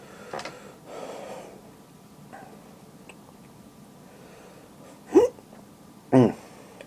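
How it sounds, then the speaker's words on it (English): Two sharp, close hiccups a second apart near the end, following soft breathing and faint rustling, with no talk. "There the hiccups."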